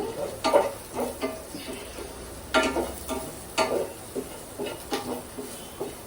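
Chopped onions with chili powder fry in a pan, a steady sizzle punctuated by repeated scraping stirs at a loose, irregular rhythm, close and fairly loud with no talk.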